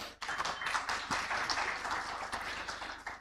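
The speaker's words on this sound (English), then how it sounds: "Big round of applause, everyone." A crowd at a special session on energy efficiency gives a dense round of applause for the panel speakers, a steady wash of many hands clapping continuously at moderate distance with no talk over it.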